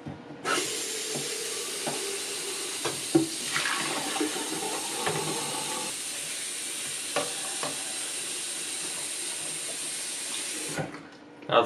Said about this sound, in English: Now let's fill the container up with water.